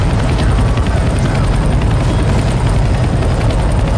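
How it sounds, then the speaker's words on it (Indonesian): A rescue helicopter departing in the video game Left 4 Dead 2, a loud, continuous rotor thump with a deep roaring engine, steady and close. "Chopper leaving, let's go."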